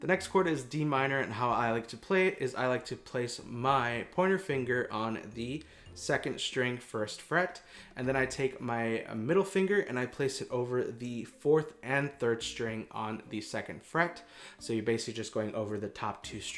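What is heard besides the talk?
No everyday noises stand out.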